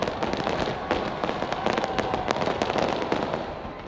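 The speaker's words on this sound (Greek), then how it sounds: "Με πυροτεχνήματα και φαντασμαγωρικές εκδηλώσεις υποδέχθηκαν τον νέο χρόνο και στη Νέα Ζηλανδία." New Year fireworks in Auckland, New Zealand crackle and pop densely and continuously, a steady barrage of sharp bursts and crackles with no voices, heard from a moderate distance.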